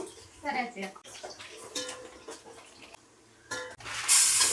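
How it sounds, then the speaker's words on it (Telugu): Basmati rice being rinsed in water in a home kitchen, with sloshing, splashing water and light clinks of a pot, mid-level and close, while people talk over it. "ఈలోపు బావాని బాస్మతి రైస్ కడిగి పెట్టామా, కడిగి పక్కన పెట్టు"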